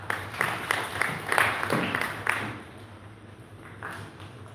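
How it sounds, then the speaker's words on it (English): An audience applauds after a presentation at a World Kidney Day event in a hotel hall in Hoima City, a short round of moderately distant clapping that fades out after a few seconds. "Another round of applause for him."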